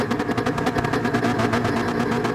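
A racing car engine revs hard and steady on the grid at Suzuka East, a loud buzzing drone with rapid pulsing, heard alone and close.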